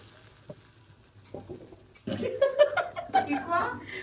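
Hilsa fish fries in soybean oil, a sizzle and stirring that grows louder after a quiet start, with people talking and chuckling over it.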